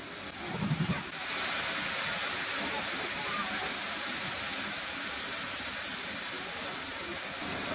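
Onions and whole spices sizzle in a pan over medium heat for a sour-sweet eggplant dish, a steady broadband frying hiss that continues evenly throughout after a brief soft thump near the start.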